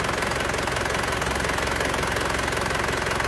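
A diesel engine in a Panther burning excessive oil idles nearby, a loud, steady knocking rumble with an even, continuous rhythm and no voices.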